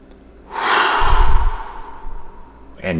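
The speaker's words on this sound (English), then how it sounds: "So I'm just going to inhale." A deep breath drawn in through the nose during a calming breathing routine: one long, close, airy inhale lasting about a second and a half, followed by a brief pause.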